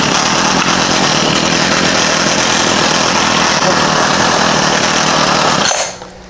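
A Stihl GHT 225 hedge trimmer's small two-stroke engine, just reassembled, runs loud and close with a continuous buzzing drone, then cuts out abruptly near the end.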